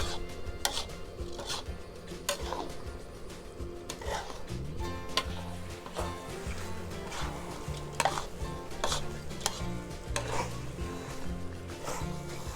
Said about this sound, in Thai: เราก็ผัดข้าวเหนียวกับน้ำกะทินะคะ จนแห้งแบบนี้แล้ว